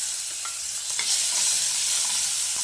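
Chopped tomato goes into onions frying in a pan for a spinach gojju, giving a steady loud hiss and sizzle with light stirring scrapes.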